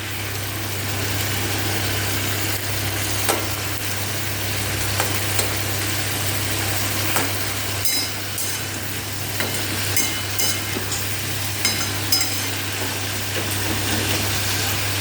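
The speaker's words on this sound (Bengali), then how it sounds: "একটু ভাজা ভাজা করবো এটা।" Steady sizzling of soybean curry frying in a pan, with a constant low hum underneath and occasional small clinks of stirring.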